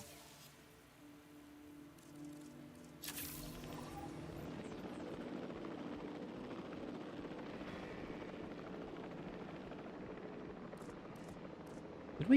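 A helicopter carrying a dinosaur in the video game Jurassic World Evolution 3, starting faintly, then a steady rotor drone and engine rumble that swells in abruptly and holds at moderate level.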